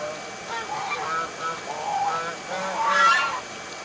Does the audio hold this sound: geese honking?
yes